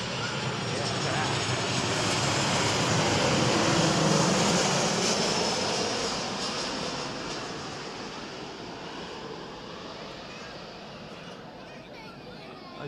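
A jet airliner at Manchester Airport roars past up close, swelling to a loud broad rumble and then slowly fading as it moves away, with people talking faintly under the engine noise.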